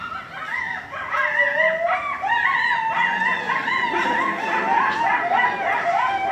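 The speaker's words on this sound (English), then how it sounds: "So howling and other vocalizations." A group of coyotes howls and yips together, overlapping wavering high cries that rise and fall continuously, loud and fairly close, with no talking.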